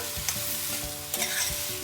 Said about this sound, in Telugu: కొద్దిగా వేగిన తర్వాత మిరపకాయ ముక్కలు వేసుకొని వేయించుకుందాం